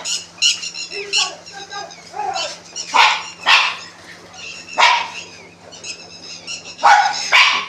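Several dogs bark in sharp, overlapping bursts, some near and loud, others farther off, with a steady low hum underneath.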